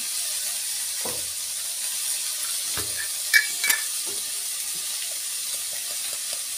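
Tomatoes frying in a pan to soften for a spinach, moong dal and potato curry give off a steady, even sizzle. A few soft stirring knocks and scrapes sound close against the pan.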